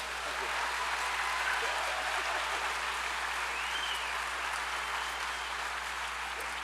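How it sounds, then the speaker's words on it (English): A festival audience in a hall applauds after an opening address at a book festival, a dense, steady wash of clapping heard from a distance under a constant low hum, with faint talk mixed in. "So one more round of applause for Diana Gabaldon"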